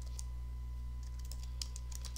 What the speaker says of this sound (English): just typing in the name and having it come up